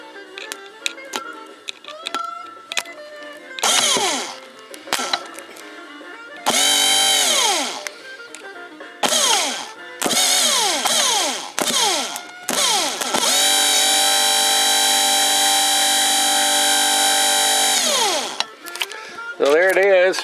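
A 12V DC Bosch permanent magnet motor on a bench starts and stops repeatedly, each run a loud whirring whine that rises in pitch on spin-up and falls away, ending with one long sustained run.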